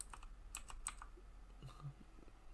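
Clattering keystrokes on a loud computer keyboard during a Minecraft session, a quick burst of clicks, a pause, then a few scattered taps, fairly close and alone.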